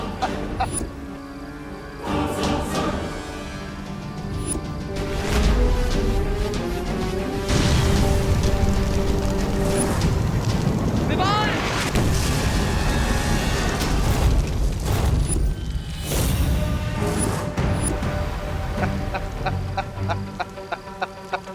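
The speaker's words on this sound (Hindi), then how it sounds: "इस गोले से बचो, इस तोप का वार बहुत खतरनाक है।" A dense, loud barrage of cannon fire booming and shells crashing in explosions over dramatic music, continuous and chaotic for about twenty seconds.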